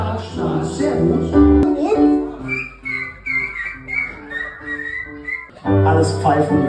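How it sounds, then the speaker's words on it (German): A concert audience whistles along with a tune in unison, with clear sustained melodic whistle lines rising and falling over accompaniment, loud and close, with a performer's voice briefly heard between phrases. "Alles pfeifen wir ganz hervorragend."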